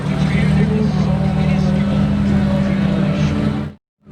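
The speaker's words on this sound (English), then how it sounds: "Rear wheel drive, Huracan Evo." A rear-wheel-drive Lamborghini Huracan Evo drives by close and loud, a steady low engine drone and road noise carrying for several seconds before cutting off abruptly, with a voice speaking over it.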